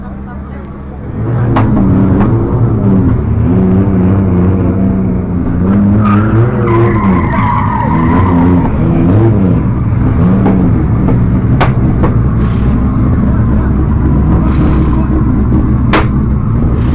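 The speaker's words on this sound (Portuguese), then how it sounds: "vamos ver os carros a andar" Cars skid and rev on a track at a car event in Portugal, a loud sustained engine roar with tire squeal and occasional sharp bangs, heard close and continuous while people talk nearby.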